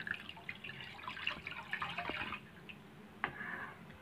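Chickpea cooking water pours into a soup pot of cooked tomatoes, a splashing, trickling flow that swells and fades over several seconds with a few drips at the end.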